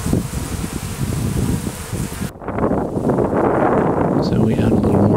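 Honey bees and yellow jacket wasps swarm a dry sugar feeder in cold weather, a steady close buzzing with rustling and outdoor wind noise, shifting after a brief break.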